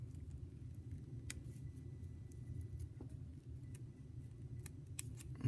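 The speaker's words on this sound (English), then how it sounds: "I'm coming in from down below and turning my scissors to get that section" Scissors snipping paper while cutting a folded paper snowflake, a few sharp close clicks and snips over a quiet low rumble.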